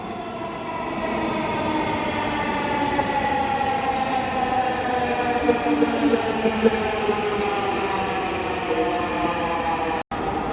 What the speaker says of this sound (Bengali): সো গাইস বেসিক্যালি সেই ট্রেনটা চলে আসলো আর আমরা অলরেডি চলে যাব সেই ট্রেন।